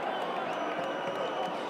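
A stadium crowd at a Western Force versus Rebels World Series Rugby match cheers and applauds in a steady, broad roar.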